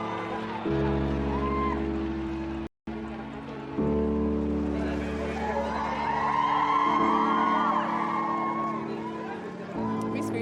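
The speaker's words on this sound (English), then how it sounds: "Everyone was screaming, trying to get the pictures and videos." A crowd outside St. Mary's Hospital greeting the emerging royal family, with excited shouts and cheering swelling midway under steady background noise and a voice speaking over it.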